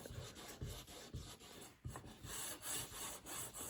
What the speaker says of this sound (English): it could be a spoon. And you rub, and you can begin to see the image will show up.